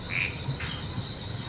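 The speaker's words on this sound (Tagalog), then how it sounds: "Dami talagang lamok." Mosquitoes swarm close by at a crowded campsite, a thin, high whine hovering steadily with faint low background noise and no talking.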